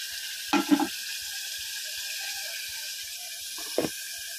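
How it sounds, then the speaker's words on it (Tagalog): Beans frying in a pan give a steady, close sizzle throughout, broken by a couple of brief clinks of a utensil against the pan. "So, i-fry pa natin yung beans."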